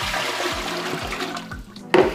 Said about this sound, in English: So we're gonna start by pouring our water into the mixer.